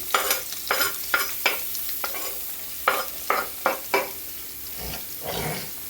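Carrot, onion and green chili sautéing in a pan for rava upma, a close, steady sizzle broken by repeated scraping stirs of a spatula, with no talk.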